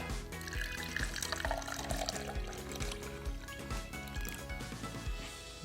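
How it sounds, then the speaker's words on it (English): Water poured into a cup, a steady liquid pour heard close up throughout and partly masked by continuous background music. "I'm going to take the water, or you can use whatever liquid you want, pour it into the cup"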